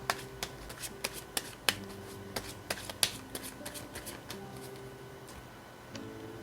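Tarot cards are shuffled and drawn with a string of crisp, irregular flicks and snaps, close and fairly quiet, over a soft tonal background.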